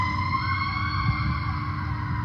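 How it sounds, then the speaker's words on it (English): A Toronto fire engine siren wails steadily for the whole stretch, its tone holding level over the rumble of traffic, with no talk. "that's why the sirens are going off"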